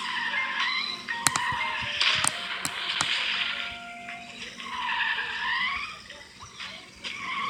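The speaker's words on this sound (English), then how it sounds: "This one drifts. I'm just saying. See, look, it could drift." Cartoon cars drifting in the mobile game Crash of Cars, tires squealing in wavering skids with sharp clicking impact taps between them, moderately loud and continuous with no talk.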